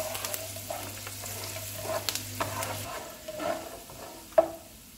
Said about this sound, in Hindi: इनको 1 मिनट तक भूनेंगे।